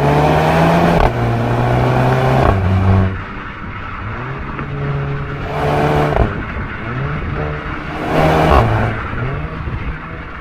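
A Mark 7 VW Golf GTI engine heard while driving, rising and falling through the gears with a loud, close, droning note, shifts marked by brief breaks, and no speech.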